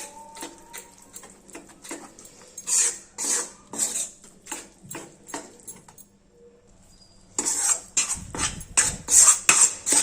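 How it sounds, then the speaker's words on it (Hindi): A spoon works gram flour into melted ghee in a cooking pan, producing repeated close metallic scraping and clinking strokes in irregular bursts, with a brief quiet pause midway. "हम इसमें थोड़ा थोड़ा करके बेसन को मिलाते जाएंगे और चलाते जाएंगे ताकि बेसन में कोई भी गुठली ना पड़े।"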